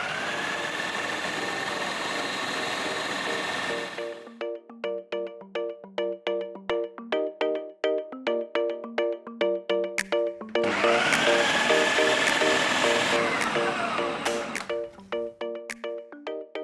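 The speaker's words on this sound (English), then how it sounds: "Then we're going to add half our chickpeas and whiz it for about half a minute." A food processor whizzing chickpeas for hummus runs in two loud sustained bursts with a high whine, separated by a stretch of choppy, pulsing motor sound as it stops and starts.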